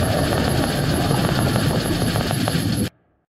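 A helicopter in God Eater Resurrection thunders close and loud with a dense, steady rotor roar for about three seconds, then cuts off abruptly into silence.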